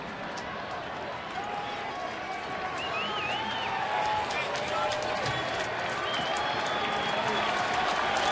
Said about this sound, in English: So the crowd rises to its feet.